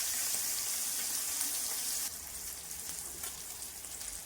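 Tengra fish coated in turmeric and salt fry in mustard oil with a steady, fairly loud broadband sizzle, louder for the first two seconds and then settling to a softer, even hiss; no one speaks.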